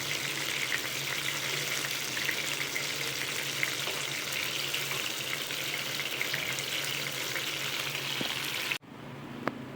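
Batter-dipped mushrooms for mushroom 65 deep frying in a pan of hot oil, a dense, continuous bubbling sizzle close up that cuts off abruptly near the end, leaving near silence.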